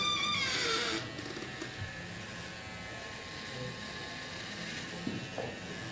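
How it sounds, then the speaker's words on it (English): Andis Super Liner hair clipper with T-blade runs through a haircut, a steady close electric buzz with a brief higher whine at the start, staying constant throughout. "This is the Andis Super Liner. It comes with a T-blade and it comes with this foil shaver."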